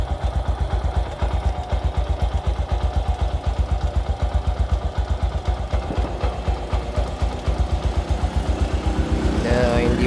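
A stock Yamaha YTX motorcycle engine, five years old with about 37k on the odometer and a long-broken choke, idles steadily close up, its rapid even thumping and light mechanical clatter running throughout while someone talks over it.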